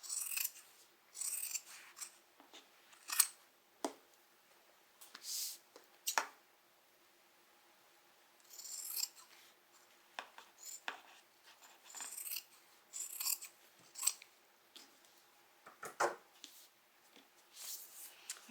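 Scissors snip away excess fabric while making a crossbody bag, in short bursts of crisp cutting strokes separated by pauses, close and moderately quiet with no talking.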